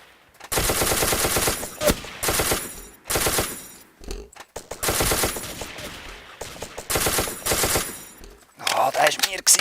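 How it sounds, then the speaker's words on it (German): Rapid bursts of automatic gunfire from the video game Ace of Spades, loud and close, coming in several long volleys separated by short pauses. "Da fetzen die Schüsse nur so rein."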